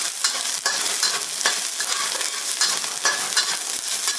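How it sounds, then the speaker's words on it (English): Chopped ginger and garlic sizzle and spatter in a hot wok while being stirred, a dense crackling hiss with scraping stir strokes, close and with no talking. "So just give it a quick stir fry."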